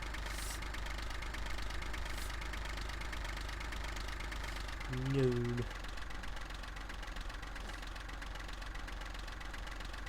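A tractor engine in a farming simulator game idles as a steady, low, droning hum throughout, with a brief spoken word near the middle.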